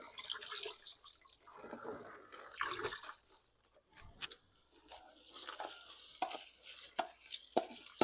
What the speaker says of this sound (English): I'm just rinsing out the rice right now.